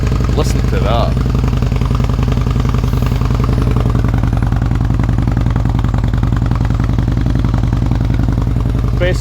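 Motorcycle engine fitted with an aftermarket exhaust idles loud and close with a steady, rapid low-pitched pulsing and mechanical clatter, running continuously throughout while someone talks over it.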